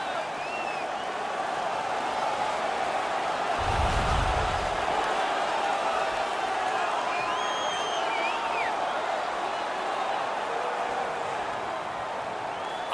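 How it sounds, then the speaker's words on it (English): Crowd at an ice hockey game in Buffalo cheering after a home player wins a fight, a constant loud roar with whistles and whoops throughout, plus one deep thump partway through. "The crowd is ecstatic."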